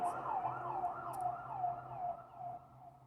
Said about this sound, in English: I'm sorry for the ambulance.